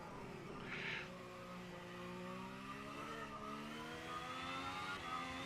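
A race car engine revs at the Imola circuit in a racing video game, a steady mid-pitched whine rising and falling through gear changes, loud and continuous with no voices.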